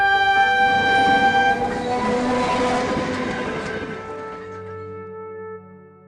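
A train passes through a railway station in an animated cartoon, a loud steady rumble of wagons with a sustained horn-like tone that fades away over several seconds, with no voices.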